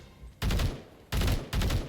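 Three rapid bursts of automatic gunfire crackle in quick succession from a burst-firing gun in the game Combat Arena, loud and close, with short pauses between them.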